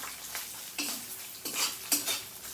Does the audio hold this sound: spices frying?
yes